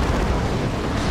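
The Eldar Eldritch Storm ability in Warhammer 40k Dawn of War 2 rumbles as a short, loud, churning roar of blast-like noise, steady throughout and close.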